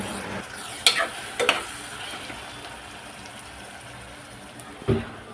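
Ginger garlic chili paste gets stirred in a pan with a few sharp scraping and clinking strokes against the metal over a faint low sizzle; close and fairly quiet, with no talking.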